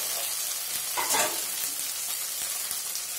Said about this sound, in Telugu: ఇది కూడా పచ్చి వాసన పోయేంత వరకు 1 నిమిషం పాటు బాగా వేపుకుందాము